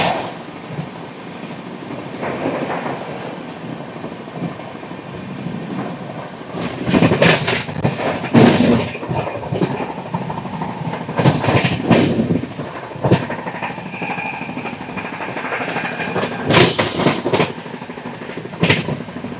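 Coromandel Express (12841) passenger train racing at about 125 km/h between Visakhapatnam and Chennai: steady loud rumble of wheels on rails, broken by clusters of sharp clattering joint clicks and bangs, nobody speaking.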